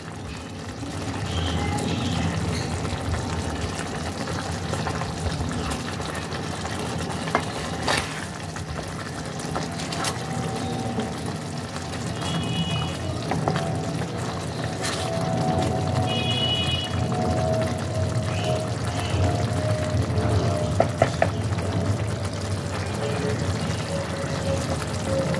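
Fish curry gravy with fried fish pieces simmers at a steady boil, giving a continuous low bubbling and churning that stays even throughout, with no talking.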